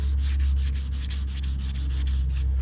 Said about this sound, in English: Slight pressure. Let the sandpaper do the work.